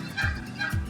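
Wild toms gobbling in a Michigan woodland during turkey hunting, two short throaty bursts less than a second apart, moderately close and clear over a quiet background.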